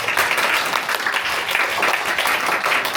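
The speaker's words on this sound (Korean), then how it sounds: "우리 하나님께 감사의 박수를 좀 올려드릴까요?" A church congregation at a Sunday worship service breaks into loud, sustained applause, a dense wash of many hands clapping close by with no gaps.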